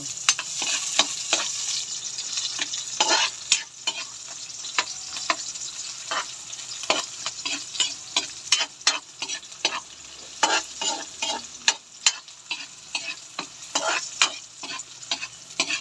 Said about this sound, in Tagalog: medyo luto na po yung sibuyas natin sa pag-igisa